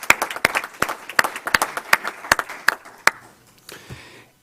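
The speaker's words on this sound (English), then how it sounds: "let's give a round of applause for all of these people" Sparse applause from a small audience at a school board meeting, about a dozen distinct claps in an uneven rhythm that thin out and stop before the end.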